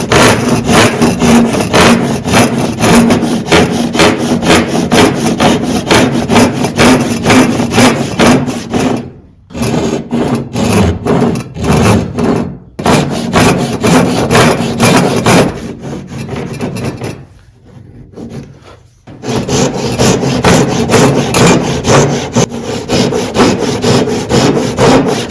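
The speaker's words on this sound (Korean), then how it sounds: "서서히 톱을 내려주시고, 그대로 위쪽에 먹금선 끝나는 라인까지 보시면서 톱질을 해주시면 좋을 것 같아요" A hand saw rasps steadily through wood while cutting a miter joint for traditional joinery, in continuous back-and-forth strokes with a few brief pauses partway through.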